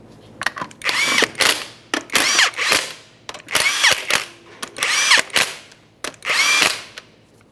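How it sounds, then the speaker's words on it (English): Pneumatic impact wrench or drill running down the 19mm lug nuts on a 2012-2015 Honda Civic front wheel, in five loud whirring bursts, each about a second long, with short pauses between them. "start on all 5 of your 19mm lug nuts"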